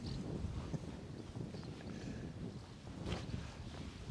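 Cold wind buffets a microphone at an outdoor airport viewing spot, giving a steady low rumble with gusts that swell and fade across the whole stretch and no voices.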